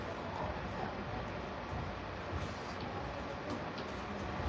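A Grand Canyon Railway passenger train rolls along, heard from inside a car as a steady low rumble and rushing noise with faint intermittent clicks of wheels over track.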